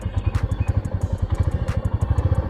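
A Royal Enfield Classic 350 motorcycle idles close by, its single-cylinder exhaust thumping in a steady, even rhythm with a mechanical clatter, loud and with no talking.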